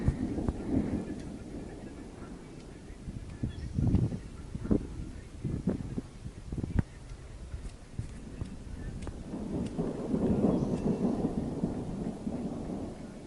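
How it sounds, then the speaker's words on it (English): Low rolling rumbles of thunder from a distant thunderstorm on the Pacific Crest Trail near Mojave swell and fade over a steady background wash, with scattered sharp ticks and a faint voice at times. "the thunderstorm has moved in, and it's actually raining down there"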